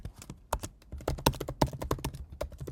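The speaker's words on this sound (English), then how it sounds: "So I'm going to type in my son's" Typing on a computer keyboard, a quick run of close, crisp key taps in an irregular rhythm for a few seconds with no talk.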